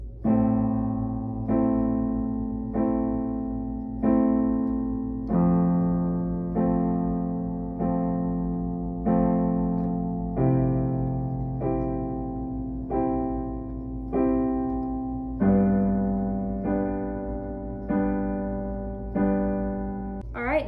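Chorus chords of a song on piano, each chord struck four times in an even pulse, sixteen clear repeated attacks with the harmony changing every four, ringing solo with no talking over it.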